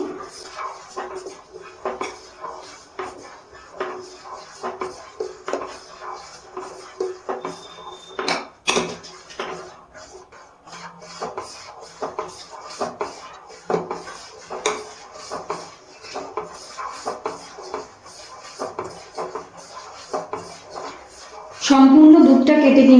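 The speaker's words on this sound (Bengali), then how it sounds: "এবার নাড়াচাড়া করে নিচ্ছি" A spoon stirs milk curdled with vinegar in a pot, making a run of light, irregular scrapes and metallic clinks at close range. A louder burst of noise comes in near the end.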